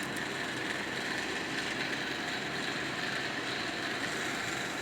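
Steady, continuous jet engine roar with a broad hiss, constant in level throughout, from airliners taxiing in an air traffic control video game.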